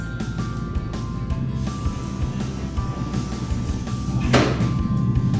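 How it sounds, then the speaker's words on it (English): A glass pull-to-move door on a modular kitchen cabinet slides along its track with a continuous low rumbling rattle, capped by a brief sharper knock near the end. "So these are the pull to move doors."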